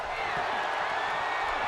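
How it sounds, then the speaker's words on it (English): A wrestling arena crowd in WWE 2K17 keeps up a steady, dense roar of chanting and cheering, loud and unbroken throughout the short stretch with no distinct pauses. "Ringing the Lucha chants."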